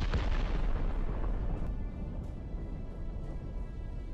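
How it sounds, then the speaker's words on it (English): A Ukrainian FPV drone strike detonates on a Russian vehicle on a battlefield, giving a deep, rumbling boom that rolls on and fades into low-frequency rumble over several seconds, with no voices. "A hit by the Ukrainian FPV leads to an explosion"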